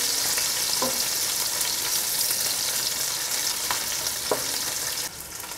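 Onions fry in a pan as the start of a tomato sauce, a loud, steady sizzle with a few clinks of a utensil against the pan, the hiss dropping away near the end.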